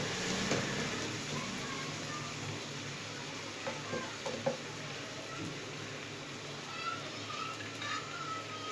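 Vegetables for macaroni cook in a pan over a medium flame, giving a steady, close sizzle with faint stirring clicks that holds for the whole stretch.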